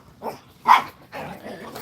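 Three littermate dogs at home give a few loud, close barks and yips, spaced irregularly with short gaps between them.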